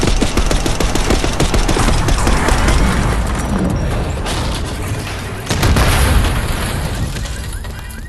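Sustained heavy gunfire and explosions in the Call of Duty Black Ops 6 campaign, loud and dense with rapid automatic bursts and booms throughout, one renewed surge partway through.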